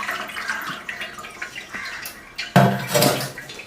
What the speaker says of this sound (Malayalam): ഇനി അതിന് ഞാൻ തട്ടിൽ ചുമ്മാ ഇങ്ങനെ വെള്ളം ഒഴിക്കാം